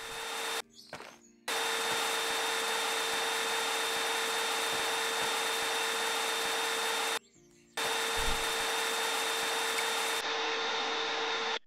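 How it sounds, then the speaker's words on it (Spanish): An upgraded vacuum cleaner in the video game Garage Flipper hums with a loud, steady whine, cutting out briefly twice and restarting each time. "y lo de la aspiradora, creo."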